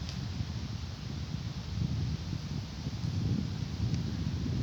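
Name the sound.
wind blowing against the camera outdoors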